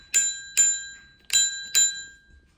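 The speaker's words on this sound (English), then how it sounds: "handles upright, it comes with a bell." Bicycle bell on a DYU D3+ electric bike rung four times in two quick pairs, each bright metallic ding ringing briefly before fading, close and clear with no talking.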